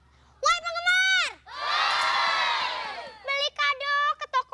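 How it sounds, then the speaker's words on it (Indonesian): A live audience bursts into loud, shouting cheers with children's voices audible, rising between bursts of a presenter's excited talk on a stage show featuring a woman grinding spicy gado-gado. "Mana tepuk tangannya?"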